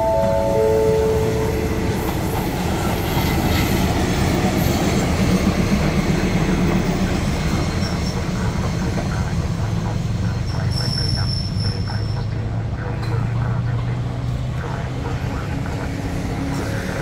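An ordinary Bangkok–Hua Hin passenger train pulling into a station platform, a loud continuous rumble of wheels and cars close by, with a high squeal near the end and a public-address voice under the noise.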